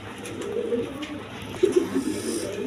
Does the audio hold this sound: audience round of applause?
no